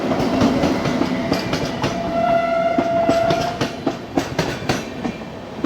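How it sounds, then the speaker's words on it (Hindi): Sachkhand Express, a Punjab passenger train running between Amritsar and Nanded, rumbles past close by with steady rail clatter and rhythmic wheel clicks, a brief tonal horn-like whine in the middle, loud and continuous throughout. "यहाँ पे आती हुई पंजाब के एक बेहद ही शानदार ट्रेन सचखंड एक्सप्रेस"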